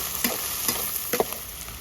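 Ginger-garlic paste frying with spices in hot oil, stirred with a spatula: a steady soft sizzle broken by three or four scraping stir strokes, close and moderate in level, with no voices.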